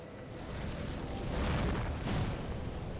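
A Fire Orb spell in Dark Souls 2 bursting into a broad, rumbling fiery explosion that swells and fades over a few seconds, heard alone.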